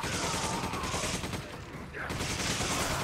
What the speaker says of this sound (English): I'm gonna use my machine gun, just because.